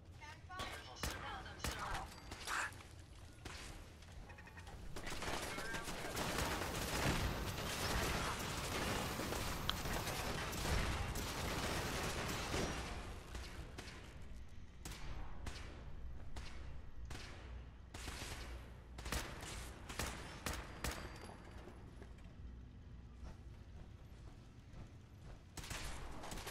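Sustained gunfire in Fallout 4 rattles in dense rapid bursts, loudest in the middle, then thins into separate sharp shots near the end.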